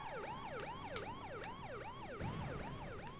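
A police car siren in a retro video game wails in a fast, steady up-and-down pattern, continuous and fairly faint, with a low rumble joining partway through.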